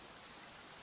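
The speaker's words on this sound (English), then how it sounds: "Rain. It's raining." Steady rain in Genshin Impact, a soft even hiss of falling drops with no pauses, fairly quiet and heard alone.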